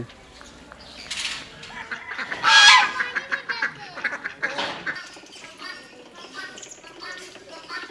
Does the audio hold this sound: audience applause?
no